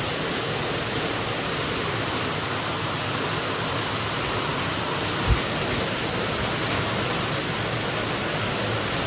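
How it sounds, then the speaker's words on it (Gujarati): Heavy rain pours down on a village house in a constant, loud roaring wash of water, like a waterfall, with a single short knock partway through and no voices. "બહુ પાણી પડે છે"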